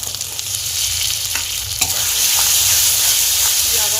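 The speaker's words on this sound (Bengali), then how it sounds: "আবারও বেশ কিছুক্ষণ নাড়তে থাকবো টমেটো যতক্ষণ না নরম হচ্ছে।" Chopped tomatoes frying with chana masala spices in hot oil, stirred steadily with a continuous close sizzle and occasional scraping clicks of the utensil against the pan.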